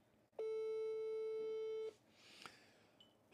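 A telephone line tone sounds during an attempt to reach a caller for a live sports talk broadcast about a FIFA World Cup qualifier: one long steady electronic tone of about a second and a half, then quiet hiss and a faint blip.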